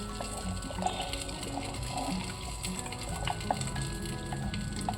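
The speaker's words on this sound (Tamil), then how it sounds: "ஸோ இந்த டைமில் நம்ம புளியை வந்து கரைச்சி வச்சுருக்கோம். ஸோ அதை ஊற்றிக்கலாம்." Tamarind water is poured into a simmering eggplant curry (ennai kathirikkai kuzhambu), producing a soft, steady bubbling and sizzling wash with faint splashes and clinks, fairly quiet and without speech.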